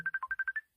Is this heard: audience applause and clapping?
no